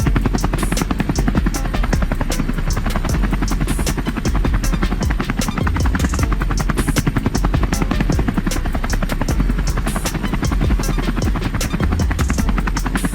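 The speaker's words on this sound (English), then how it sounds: "Have you ever seen helicopter logging before?" A logging helicopter's rotor thumps rapidly and loudly without pause, a dense mechanical chop with a high whine over it.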